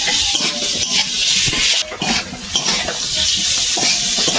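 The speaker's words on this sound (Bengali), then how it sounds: "আলুটাতে একটু নেড়ে চেড়ে কষিয়ে নেব" Fried potatoes stirred and sautéed in spice masala in a pan for a fish curry, a steady close sizzle of oil with scraping spoon strokes against the pan, continuous and fairly loud with no talking.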